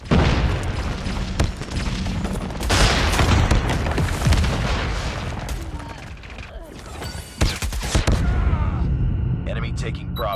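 Grenade blasts boom through a dense, loud Call of Duty Mobile Domination firefight, with bursts of gunfire, mechanical clanks and in-game voice callouts layered throughout.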